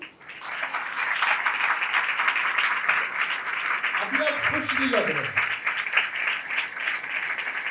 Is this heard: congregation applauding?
yes